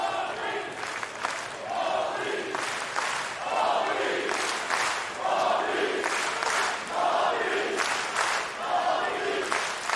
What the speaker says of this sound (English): you can hear the chant starting